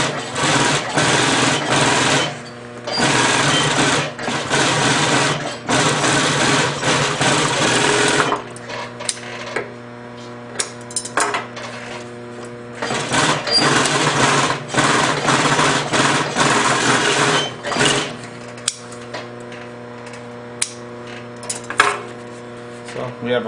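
A sewing machine stitches binding onto material in long, fast, buzzing runs of steady needle rhythm, broken by pauses and short bursts, close and loud.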